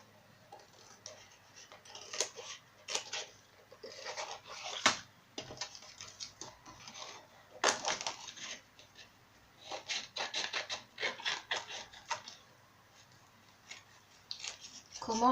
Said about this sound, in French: on va venir couper l'excédent